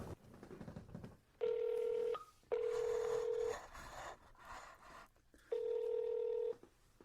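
Telephone keypad dialing tones for a call placed live on a Korean radio show, three long steady beeps with short gaps, loud and clear over quiet studio background.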